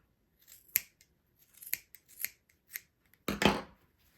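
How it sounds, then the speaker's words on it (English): Scissors trimming the yarn tail of a crochet pony just above the hooves: several crisp, close snips spaced irregularly in quiet, with a final louder double cut near the end. "So I'm going to trim it to just above the hooves."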